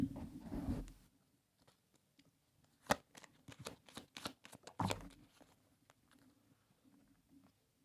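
Tarot cards drawn and shuffled by hand, a dense burst of riffling at the start followed by scattered crisp snaps and flicks as single cards are pulled, close up and quiet, with no talking.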